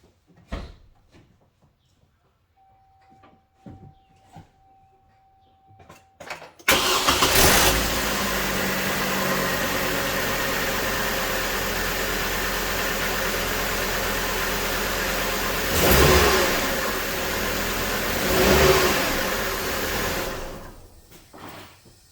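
A car engine, just fitted with a new serpentine belt, idler and tensioner, is cranked and catches after some quiet clicks, then settles into a steady idle with a couple of brief revs, close and fairly loud, no one talking.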